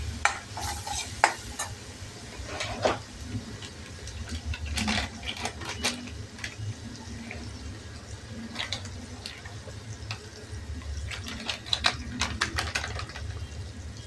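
Red chili powder being sautéed in a pan for a sweet-and-sour varan, with soft scraping stirs and faint sizzling, scattered sharp clicks of the spoon against the pan, no talk.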